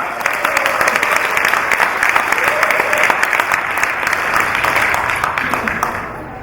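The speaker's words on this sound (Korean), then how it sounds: "큰 박수로 환영합니다" Loud, sustained applause from a crowd at a Korean political party's provincial founding convention, steady dense clapping filling the whole stretch with some voices and cheers mixed in beneath it.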